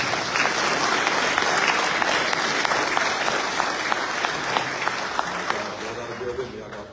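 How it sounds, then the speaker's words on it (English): An audience at a United States Navy retirement ceremony for a senior chief petty officer bursts into sustained, even applause that fills the room for several seconds before slowly easing off. "Give it up for Pops."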